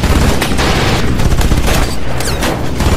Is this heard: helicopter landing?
no